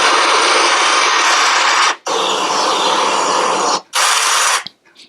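Ocean surf from a Nova model R smart ring's meditation app, a loud, steady rushing wash played in three long stretches split by brief silent gaps, with no talking.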